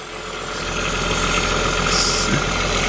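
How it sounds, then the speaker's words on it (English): A high-mileage 2008 Volkswagen R32 V6 idles steadily up close, with a constant hiss from a vacuum leak running over the engine's low rumble. "Sounds like a vacuum leak."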